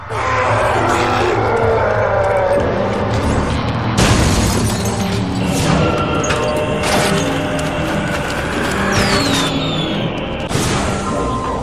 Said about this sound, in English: Fireworks! We could use these to chase away the darkness, at least in short bursts.